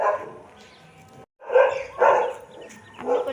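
A dog at a zoo barks in a few loud, close bursts separated by short pauses, with a faint whimpering tone between them.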